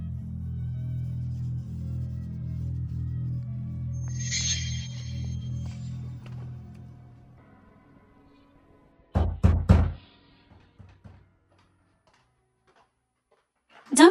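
A door is knocked on in a quick cluster of sharp, close raps after a low musical bed fades to near silence, followed by a couple of faint taps.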